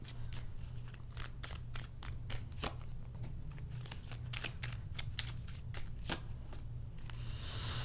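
Tarot cards being shuffled and pulled, a steady run of crisp riffling flicks and snaps close by, carrying on without pause over a faint low hum, with no talking.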